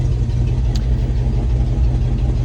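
A Chevy V8 engine in a 1950 Farmall A tractor, fitted to an auger for digging fence holes, runs with a steady, close, low-pitched rumble, even and continuous with no speech.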